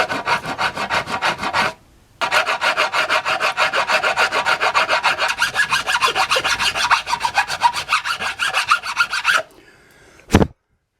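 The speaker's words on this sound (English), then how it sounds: "so I'll just give this a gentle rasping and see what it looks like" A hand rasp files wood in fast, even rhythmic strokes, loud and close, pausing once early on, then continuing steadily before stopping with one final stroke.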